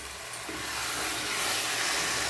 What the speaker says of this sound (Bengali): প্রেশার কুকারে সিটি দেওয়ার জন্য বসিয়ে দিয়েছি